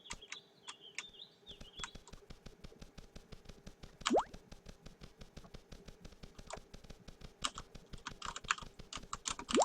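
Rapid typing on a computer keyboard during Cube World play, dense steady clatter of keys running throughout with a few brief game tones and chimes mixed in.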